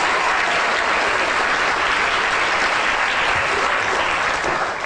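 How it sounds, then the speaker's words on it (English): Loud, continuous audience applause at a live show or lecture, a dense unbroken wash of clapping that fills the room. "Big round of applause, please."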